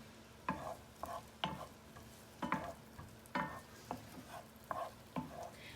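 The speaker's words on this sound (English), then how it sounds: "we are going to saute our onions for approximately 3 minutes, stirring occasionally" Chopped onions sauté in a pan under a faint, steady sizzle, while a utensil scrapes and stirs in short, regular strokes about once a second. The sound is quiet and close, with no voices.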